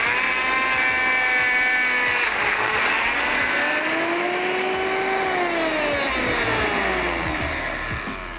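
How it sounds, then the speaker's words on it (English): Powerful blender whirring through a thick pineapple and ginger dairy-free dole whip mixture, a loud motor whine whose pitch dips and rises as it works, then eases slightly near the end. "now let's get blending. You wanna use a really powerful blender here"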